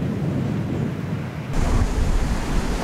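Ocean waves crashing against black lava rock cliffs on windy, drizzly Pico island, a steady roaring wash that swells louder partway through, heavy and close, mixed with wind buffeting the microphone and no speech.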